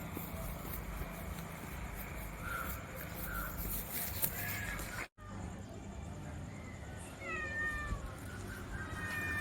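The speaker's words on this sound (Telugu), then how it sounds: "పిల్లి" A cat meowing several times near the door of a house, the calls fairly faint over low background noise, with a short dropout partway through.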